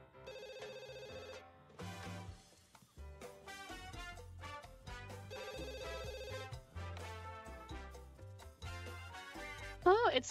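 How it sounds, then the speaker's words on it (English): Telephone in The Sims 2 ringing amid the game's bright tonal background music and chimes, a repeated ring sounding through the score with no talk. "And Lou, go ahead and answer the phone"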